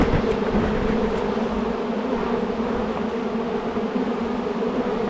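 A honey bee swarm buzzes and fans steadily up close, a loud, unbroken droning hum with no voices over it.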